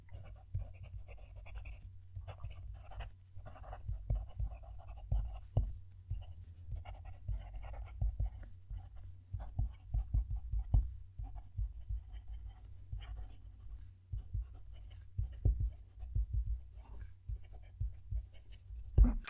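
Scratchy fountain pen nib strokes on paper, close and steady, with a slightly higher-pitched singing tone, soft rhythmic scraping bursts and low thumping handling noise underneath.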